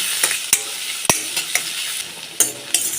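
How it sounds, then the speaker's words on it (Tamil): Tomatoes stir-fry in a pan with curry leaves for a cabbage and chana dal kootu, a bright, steady sizzle punctuated by quick scraping and tapping stirs, close and loud, with no talking. "இப்போ தக்காளி சேர்த்துக்கலாம் தக்காளி சேர்த்து நல்லா கலர் விட்டுக்கலாங்க"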